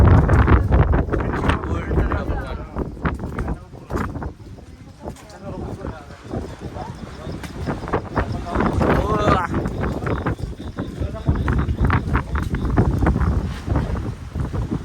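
Strong wind gusting on a misty hilltop at Pavagadh, a loud continuous rushing roar buffeting the microphone, with people talking over it.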